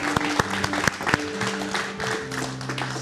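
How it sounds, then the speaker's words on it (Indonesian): An audience at an Indonesian talk show breaks into steady applause, a dense wash of clapping for three seconds with a few louder individual claps standing out. "Tepuk tangan dong untuk saya."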